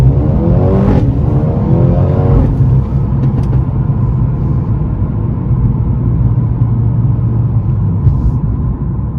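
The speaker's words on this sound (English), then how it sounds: "Now we will do a standstill acceleration to a bit over the speed limit." A 2021 Mercedes-AMG CLA 35 pulls away hard from a standstill, its engine note rising with a quick gear change early on before settling into a loud, steady rumble heard from inside the car.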